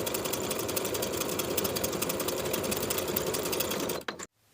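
A sewing machine runs steadily, stitching a 3/8 inch pocket side seam on a pair of Dani shorts, with a fast even needle rhythm close up before stopping abruptly near the end.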